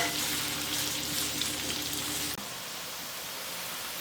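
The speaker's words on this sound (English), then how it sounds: "Let's fry this." A bay leaf (tej pata) frying in a pan over medium-low heat: a dense, even hiss like light rain that abruptly drops to a quieter, thinner sizzle partway through.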